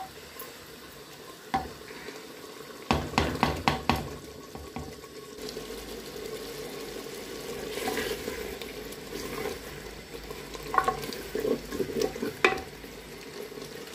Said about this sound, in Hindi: मसाला अच्छी तरह से भुन जाए और इससे तेल निकल आ जाए